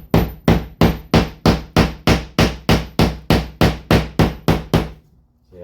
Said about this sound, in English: Staple and hammer.